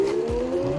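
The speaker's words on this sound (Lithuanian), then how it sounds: "Prasisuko priekiniai ratai." An S10X Bird Limited dual-motor electric scooter spins its front wheel at the starting line, giving a short, steady, slightly rising motor whine over a rough rumble of tire noise.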